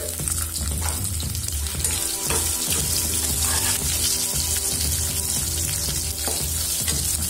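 Steady loud sizzling of onions frying in hot oil, a continuous crackling hiss throughout with no voices.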